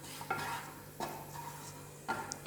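A spoon scrapes and stirs gravy in a cooking pan, giving a few distinct clinks and scrapes about a second apart over a quiet background sizzle.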